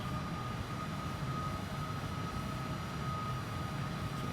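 An airplane engine roars during takeoff in Microsoft Flight Simulator, a steady, fairly quiet droning hum that holds level throughout with no voices.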